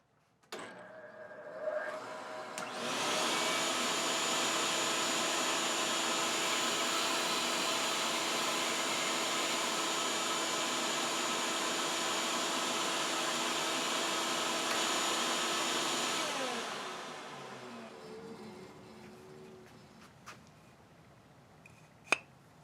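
A bandsaw fitted with a crosscut jig cuts through wood: a loud, steady motorized whir with a humming tone holds for about thirteen seconds, then winds down and fades, with no talking.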